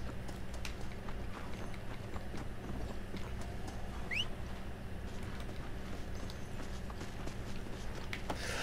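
A horse's hooves clip-clop at a quick, steady pace over a low, constant background hum in the video game Red Dead Redemption: Undead Nightmare.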